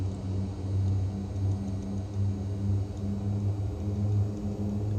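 Twin turboprop engines of a Shorts Skyvan throttle up for takeoff, giving a steady, loud, droning hum with strong low tones that holds without pause throughout, and no talking.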